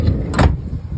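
A vehicle door at work thuds shut once, a short, heavy, close knock over a steady low engine hum.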